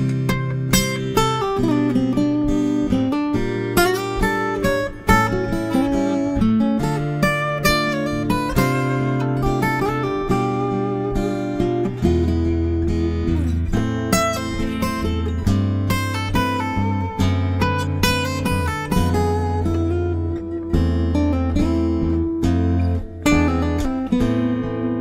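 Classical guitar improvisation on selected notes, continuous plucked melodic lines and chords with clear attacks, played solo and close for the full length with no talking.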